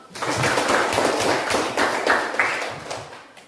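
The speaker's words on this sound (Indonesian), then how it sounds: "Tepuk tangan untuk hari ini karena siswa sudah semua hadir." Schoolchildren clap their hands together in a classroom, a dense run of sharp overlapping claps lasting a few seconds at steady close loudness, with a voice faintly underneath.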